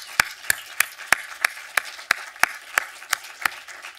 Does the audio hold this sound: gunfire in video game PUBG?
no